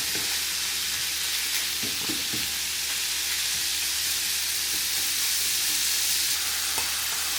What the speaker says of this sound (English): when it's just starting to get cooked, I'm going to put the spring onions in